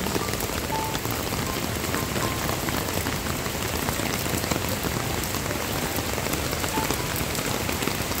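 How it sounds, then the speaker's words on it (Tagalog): Heavy rain pours steadily throughout, a dense continuous hiss of drops pounding a surface, loud and close with no pauses. "Kahit ang lakas pa ng ulan, no? Ang lakas talaga ng ulan."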